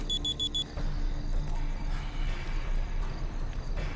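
A phone reminder alarm sounds as a quick run of repeated high electronic beeps at the start, followed by steady background hum and faint ambient noise.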